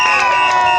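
A crowd at an outdoor anti-lockdown protest cheers and shouts for a speaker named Lamont, a brief, loud burst of massed voices and whoops close by.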